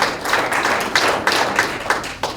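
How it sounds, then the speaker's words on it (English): Light applause from the audience at a chamber of commerce legislative breakfast, a small scattering of distinct claps that stays moderate in volume and thins out toward the end. "Round of applause for them."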